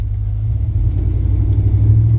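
A GMT 400 truck's TBI engine with a failing fuel pump idles in gear close by, a steady deep rumble that sags and labors as it nearly stalls.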